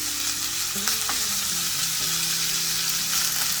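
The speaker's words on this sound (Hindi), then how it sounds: "We are going to cook the minced mutton nicely in the onion." Minced mutton sizzles and fries with onion in a pan, giving a constant, bright crackling hiss, with a few faint stirring scrapes beneath it and no talking.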